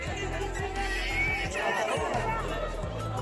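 Dense crowd hubbub at the entrance of Mumbai's Rani Baug zoo, a steady wash of many overlapping voices and shuffling at constant loudness, close and busy throughout with no single voice standing out.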